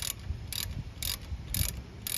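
A ratchet tightens the 14mm brake caliper bolts on a first-generation Subaru BRZ during a front brake pad and rotor job, giving five bright clicking bursts in an even rhythm, close and alone.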